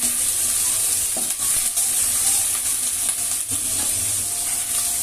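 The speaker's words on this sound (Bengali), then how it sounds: "এটা এখন ভালো মতো নেড়ে মিশিয়ে নিতে হবে।" Mixed masala of ginger, garlic and cumin stirred in a frying pan, a dense, loud sizzle with repeated scraping strokes of the spoon against the pan, close up and with no one speaking.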